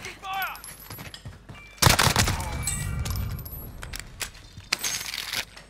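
Light machine gun fire in Call of Duty Warzone, a loud sustained burst that opens sharply and rattles for several seconds, with scattered pings and shorter follow-up shots, under occasional voices.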